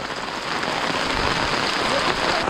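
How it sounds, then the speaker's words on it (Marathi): Heavy monsoon rain pours steadily in a village, a dense, loud hiss of drops with no pauses and no voices. "पावसाने जोर वाढवला आहे"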